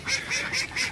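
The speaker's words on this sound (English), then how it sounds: "Look, that goose looks like he wants some food." Ducks and geese calling near a small backyard pool pond, several short nasal quacks and honks pulsing in a steady rhythm about four times in a second, close and moderately loud.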